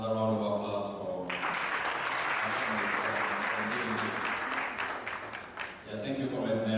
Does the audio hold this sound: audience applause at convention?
yes